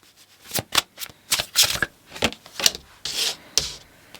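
Tarot cards are shuffled by hand in a steady series of crisp riffling bursts, each a quick papery rush with short pauses between, close and clear with no talking.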